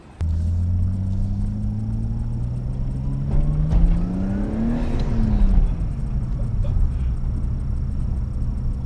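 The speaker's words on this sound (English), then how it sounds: "Now has upgraded from the 200 horsepower RB20 to a 350 horsepower RB25 Neo, and it rips." A Nissan Skyline with a swapped 350-horsepower RB25 Neo engine replacing its 200-horsepower RB20 runs with a loud, steady rumble. The revs rise to a peak around midway and then fall back, while voices are faintly present.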